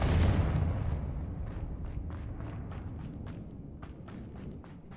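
A Confringo blasting spell explodes in the Hogwarts Legacy video game: a loud burst at the start that fades into a rumbling tail, followed by a run of sharp, quick clicks and impacts.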